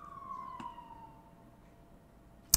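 An emergency vehicle siren, probably an ambulance, near a fire station. It gives a faint, distant wail that slides downward under quiet street background, and a sharp click ends the clip.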